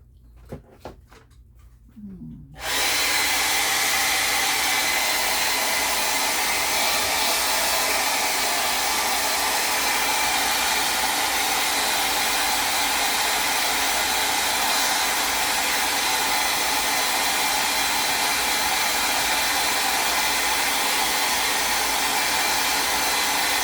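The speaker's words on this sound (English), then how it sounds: "So I'm going to dry it a little bit." A hair dryer is switched on after a few quiet seconds to dry paint on a decoupage roses craft, then blows steadily and loudly at close range without pause for the rest of the stretch.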